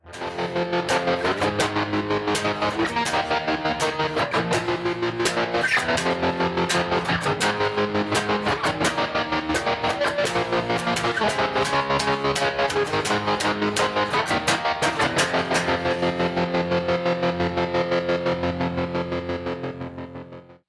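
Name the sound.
Line 6 MM4 OPTO tremolo effect on guitar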